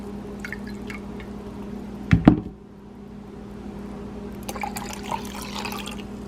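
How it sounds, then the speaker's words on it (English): Warm water poured into a bowl to activate yeast for steamed dumpling dough, a short splashy pour with a couple of knocks at the center of a quiet kitchen. "I put a cup and 3/4 of warm water just to let the yeast"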